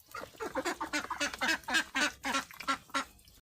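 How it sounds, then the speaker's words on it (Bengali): Ducks feeding on scattered food, giving a steady run of loud, close quacks in quick succession that stop abruptly at the end. "এই যে হাঁসে খাবার খাইতেছে।"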